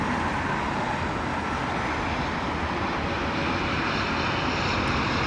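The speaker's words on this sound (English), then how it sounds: "say hello to our British Airways A350 1000 coming in from Austin" A British Airways Airbus A350-1000 arriving at London Heathrow gives a steady, loud jet roar that holds at a constant broadband rumble throughout, with no pauses and no voices.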